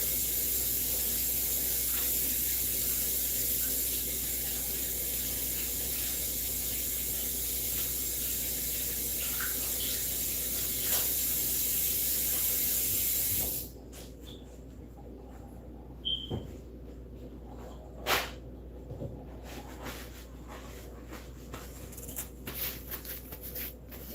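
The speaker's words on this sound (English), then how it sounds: "Wash my hands, y'all." Water runs steadily from a tap as hands are washed, a continuous hiss that cuts off abruptly midway, leaving a quieter room with a few faint clicks and knocks.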